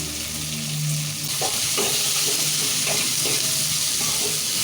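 Chopped tomatoes frying in a pan with turmeric and salt, a continuous close sizzle with soft scraping stir strokes, no voices.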